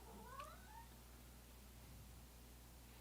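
A pet cat calls out in a single short meow near the start, then falls quiet over a steady low indoor hum.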